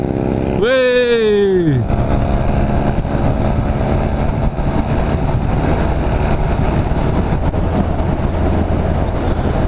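A small three-wheeler car with an old go-kart-like engine and pram wheels passes a Honda NC750 motorcycle on the road, its engine note rising and then falling in a long whine, followed by steady, loud engine and road rumble.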